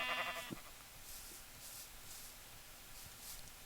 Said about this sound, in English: Another cluster of sheep.